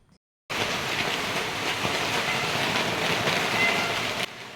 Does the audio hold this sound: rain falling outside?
yes